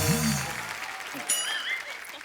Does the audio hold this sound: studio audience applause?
yes